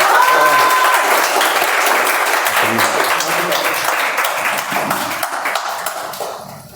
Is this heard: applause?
yes